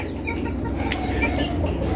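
Backyard chickens clucking amid a continuous, fairly loud background of flock noise and hum, the clucks blending into the steady din.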